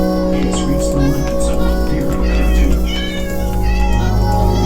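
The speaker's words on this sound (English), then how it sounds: "There's some orange kitties." Several orange cats in a video game meowing repeatedly over game music, overlapping rising and falling calls that are loud and close.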